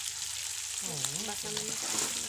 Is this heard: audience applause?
no